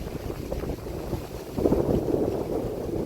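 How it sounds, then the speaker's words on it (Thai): Strong wind blows across a microphone outdoors near a riverbank, making continuous buffeting gusts that swell midway. No speech is heard. "วันนี้ลมอย่างแรงครับพี่น้อง ลมอย่างแรงเลยครับ"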